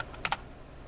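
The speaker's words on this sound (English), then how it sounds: "I'm going to type in" Two quick keystrokes on a computer keyboard, sharp close clicks in under a second against a quiet room.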